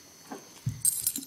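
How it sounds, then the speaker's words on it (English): Car keys being dug out of a purse give a faint, brief jingle with small metallic clinks up close, over quiet room noise. "I've got my car keys."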